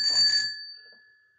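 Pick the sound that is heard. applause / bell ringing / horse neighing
bell ringing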